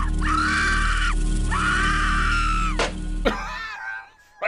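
A telephone in the horror game Phantasmagoria: A Puzzle of Flesh lets out loud, drawn-out shrieking screams, two long wails followed by a shorter cry over a steady low hum, with no talking.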